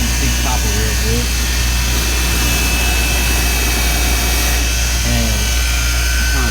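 An angle grinder fitted with a wire brush scrubs copper motor wires, giving a steady, loud, unbroken whine and rasp throughout, with a voice briefly speaking over it.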